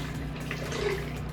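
Water poured from a measuring cup into homemade salad dressing with mustard in a small kitchen, a soft continuous trickling pour, close and moderately quiet, with no talking.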